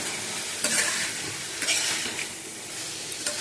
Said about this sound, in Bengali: আর একটু আলু দিয়েছি অল্প, দিয়ে মোচাটা একটু নাড়াচাড়া করছি